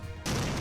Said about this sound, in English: So I put explosives in the cabinet.